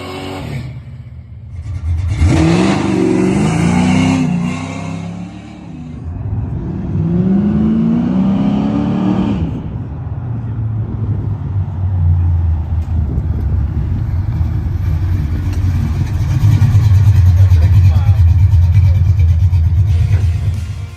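A 1979 Camaro Z/28 running open headers with no exhaust revs hard in two loud, rising bursts, then settles into a deep, rumbling idle that swells near the end.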